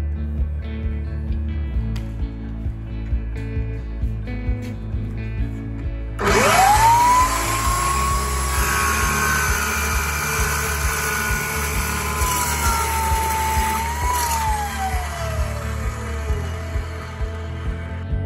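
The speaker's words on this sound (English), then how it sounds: "Next, a 14-inch dry-cut chop saw." A 14-inch dry-cut chop saw, run from golf car backup power, starts abruptly after a low hum, then holds a loud, steady whine whose pitch sags under load during the cut before easing back.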